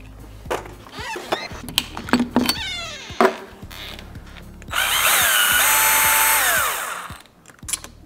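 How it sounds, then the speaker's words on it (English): A Hippoo power drill whirs up loudly and runs steadily for a couple of seconds while removing door screws, after scattered clicks and handling knocks, with a cat meowing close by. "I'm gonna use the new drill that Hippoo provided to go ahead and remove some of the screws"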